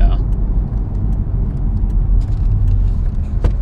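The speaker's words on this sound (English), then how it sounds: "Here's a third gear pull. You see the burbles?" A Chevy Corvette C6 ZR1 pulls hard in third gear with a loud, deep, steady engine roar from inside the cabin. Someone talks over it.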